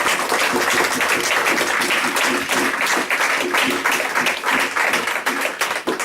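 Church congregation applauding together, dense sustained clapping filling the whole stretch at steady loudness, with a few voices calling out underneath.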